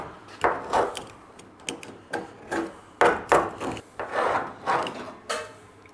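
Rhythmic rasping strokes sound as camper van panel trim is cut out by hand, about a dozen close, scraping pulls in an uneven steady rhythm with brief pauses between them.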